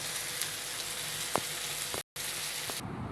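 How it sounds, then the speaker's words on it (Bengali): Sour mango pickle with chili flakes cooking in oil, a soft continuous sizzle with a few light stirring clicks and a brief dropout near the end, and no voices. "এখন নেড়ে চেড়ে আবার কিছুক্ষণ রান্না করব।"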